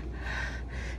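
Heavy, ragged panting from a hiker catching breath after a steep climb to a nature park campsite, close and loud, one long labored exhale-inhale cycle with no talk.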